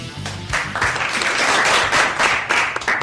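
Applause from an audience on a search engine marketing talk show, fairly loud and continuous, with distinct bursts of claps standing out against a steady crowd patter.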